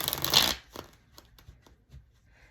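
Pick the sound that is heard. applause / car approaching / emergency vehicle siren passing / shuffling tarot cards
shuffling tarot cards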